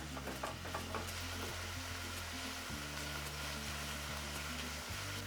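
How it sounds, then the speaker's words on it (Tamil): A steady, even sizzle of onions frying in a pan, with a low electrical hum running underneath throughout. "வெங்காயம் இப்போ ஓரளவுக்கு வதங்கிடுச்சிங்க"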